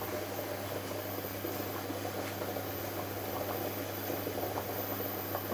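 Water boils steadily in a steamer cooking a layered palm sugar cake (kue lapis gula merah), a constant bubbling rush with a low humming tone underneath, close and unchanging.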